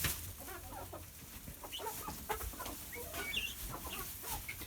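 Chickens cluck and chatter continuously in a noisy farmyard near their coop, with scattered short calls overlapping at moderate distance and no talking.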